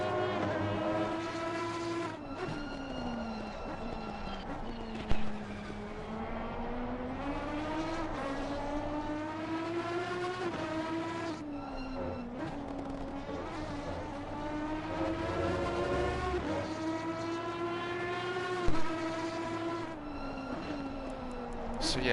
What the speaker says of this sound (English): that's got a really high-pitched sound to it, but it could be a V12, just higher revs